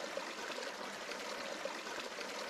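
Water spills steadily over a weir in a micro hydro setup at roughly 20 gallons per minute, a continuous close splashing trickle with no talk.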